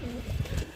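A pigeon in a pigeon loft gives a single brief, low coo, close by and unaccompanied by speech.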